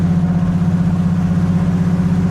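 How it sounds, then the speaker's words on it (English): A TVR S3 sports car idles with a steady, deep burble from its stainless steel exhaust, a low, even engine note close by with no talking. "It almost sounds like a V8, the way they've done the exhaust."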